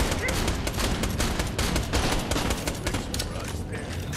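Dense, continuous gunfire in the Borderlands: The Pre-Sequel video game, rapid overlapping shots and bursts filling the whole stretch at steady loud volume with no pauses.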